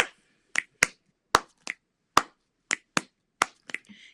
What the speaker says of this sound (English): I can kind of do this clapping and all this, snapping and everything.